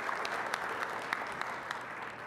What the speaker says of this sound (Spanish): Vamos a dar un fuerte aplauso a Ernesto